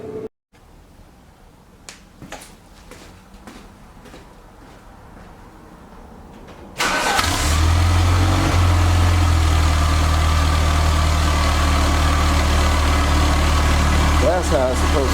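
A 1989 Dodge Daytona ES with a new catalytic converter cranks at about seven seconds and settles into a steady, fairly quiet idle, following a stretch of faint clicks and handling noises.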